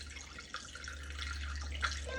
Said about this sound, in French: Et on met le bouillon d'os.